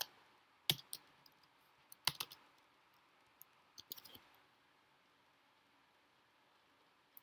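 Typing on a computer keyboard during a Java programming lesson: scattered sharp key clicks in short bursts, close and fairly quiet, with long silent gaps between.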